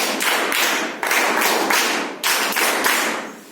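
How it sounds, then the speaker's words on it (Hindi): A class of students doing a scout clap together, several loud group bursts of rapid clapping in a rhythmic pattern, each burst fading before the next, with no voices. "अतुल के लिए स्काउट ताली प्रारंभ"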